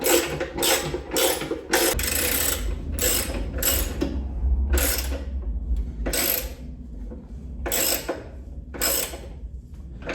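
A ratchet tightening bolts on a Royal Enfield Bullet 500 gas tank, loud close clicking in repeated quick bursts separated by short pauses.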